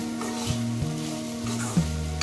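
Sabudana (sago pearls) stirred in a hot pan, a continuous close sizzle broken by a few clinks and scrapes of the spoon, with no voices.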